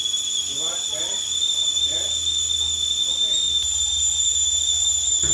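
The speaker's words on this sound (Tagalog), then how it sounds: "pero ako gustong-gusto ko yung tunog ng ganyang kettle sa umaga." A kettle on the boil gives a steady, piercing high whistle that holds throughout, loud and close, while a person talks softly underneath in the first part.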